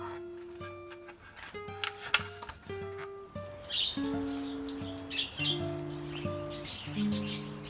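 Pet budgies chirp and tweet indoors in a run of short, bright, varied calls and warbles, close and fairly clear, with a few scratchy squawks mixed in.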